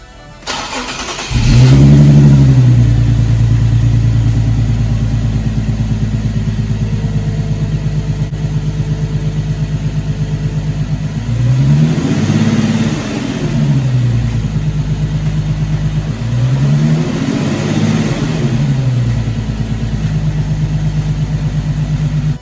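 A turbocharged-style intake roar: a 2015 Infiniti Q50 3.7 AWD with a Takeda Stage 2 cold air intake idling, then revving up twice in strong surges, loud and close, with a deep steady rumble between.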